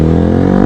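Motorcycle engine held at high revs during wheelie stunts, a loud, close, steady droning buzz with strong harmonics that holds for under a second.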